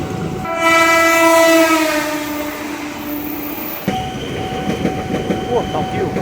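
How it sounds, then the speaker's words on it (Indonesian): At a commuter rail station, a train horn blares loud and close for about three seconds, then rolling wheels clatter and rumble as the train passes. "Saya lagi ada di stasiun di JPR 18 mau ke Pasar Minggu"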